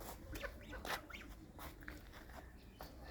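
Young goslings about a month and a half old peeping and calling in short, repeated chirps, faint and close, from a garden house setting.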